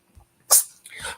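A cat sneezes once, a sharp close burst with a smaller snuffly follow-up a moment later, in an otherwise quiet room.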